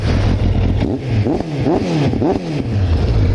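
A Suzuki GSX-R1100 motorcycle engine revs up and down in several quick bursts, loud and close, over a rough idling rumble around 1300 to 1400 RPM.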